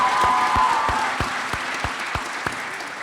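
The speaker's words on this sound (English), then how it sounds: "Let's give the Latino Club another round of applause" An audience at an MLK celebration applauds the Latino Club, a short burst of clapping that thins into a few distinct, evenly spaced claps before fading.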